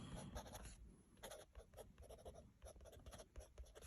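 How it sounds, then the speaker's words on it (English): Pen writing on paper, heard close up as quiet, uneven scratching strokes with brief pauses, without any talking. "I'll write this down for you"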